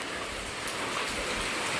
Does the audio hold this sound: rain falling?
yes